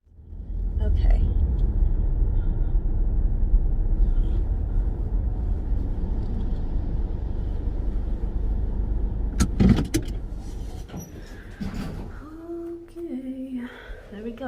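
Car on the road heading toward a bridge crossing into Washington: steady low engine and road rumble for most of the span, fading near the end among a few small clunks and rattles.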